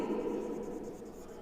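A pen scratches across paper in a short, soft, continuous scrawl, close and quiet, with no voices.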